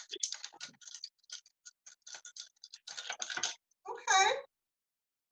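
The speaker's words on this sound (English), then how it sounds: "So I'm just gonna shake it on up." Eggnog being shaken in a cocktail shaker, a run of quick rattling clicks and scrapes in irregular bursts, close and crisp, ending with a louder burst of shaking.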